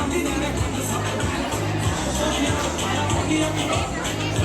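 A crowded indoor gathering of makeup artists fills the space with a constant murmur of many overlapping voices, a dense, even babble with no single speaker standing out.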